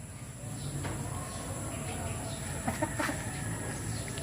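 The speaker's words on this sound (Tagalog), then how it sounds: "native na manok. Mga native. Ilan lang manok ngayon din eh." Native chickens clucking while being fed bananas on a rural plot, soft intermittent clucks and short calls scattered over a low background hum, with a voice speaking faintly at times.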